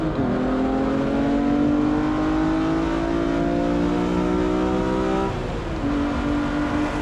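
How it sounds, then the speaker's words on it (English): A BMW M3 E46 engine drones steadily at high revs on a race track, pitch climbing slowly, then drops sharply as it shifts and settles again, loud and close. "Oh, that engine sounds so good."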